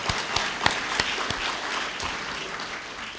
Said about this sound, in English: Okay, we can clap for that.